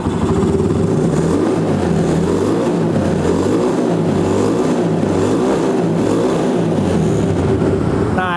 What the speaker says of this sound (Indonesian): sekarang kita akan cobain gimana suaranya Scorpio yang udah kita bore up 260 cc